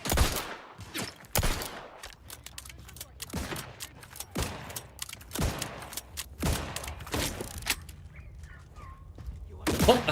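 Gunfire from a sci-fi shooter in The Outer Worlds 2, heard as a series of sharp, loud shots spaced unevenly across the stretch, with a steady game ambience between them.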